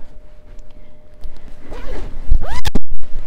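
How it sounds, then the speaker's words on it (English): A winter coat zipper is pulled in a couple of quick, sharp strokes close to the microphone, after some soft rustling. "The zipper works super good."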